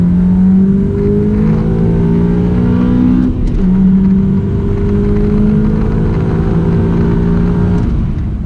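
A Honda Accord CL9 fitted with PLM headers accelerates hard in loud, continuous engine drone, climbing in pitch, dipping briefly at a gear change, then pulling up again.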